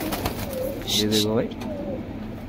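Border pigeons coo close by, a few soft throaty calls heard under someone speaking Hindi.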